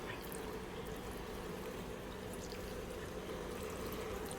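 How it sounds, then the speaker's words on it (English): Water poured into a pan of cabbage seasoned in bacon grease, a steady close splashing and trickling stream running unbroken for several seconds without talk. "I'm going to add just a tiny bit of water and put the lid on it."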